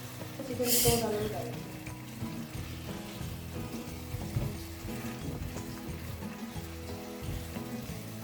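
Tomatoes sizzle and fry softly in a pan, a steady low crackle running throughout, with a brief louder hiss near the start and a person speaking over it.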